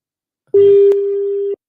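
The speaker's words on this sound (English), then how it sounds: "Let's see if we get a ringtone" A single steady electronic phone tone sounds for about a second on a test call, clean and close, preceded by a brief faint click.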